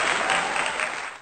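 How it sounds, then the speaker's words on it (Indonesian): A short burst of clapping from a class of fifth-grade pupils in a microteaching lesson, a dense patter of hands lasting about a second before fading. "Tepuk tangan untuk kita semua."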